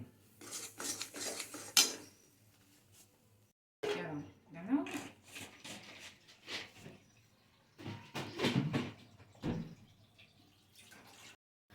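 Utensil scraping and clinking against a pan while a sweet mixture is stirred, in irregular bursts of metallic scrapes with a pause mid-clip, heard with a voice talking in the background.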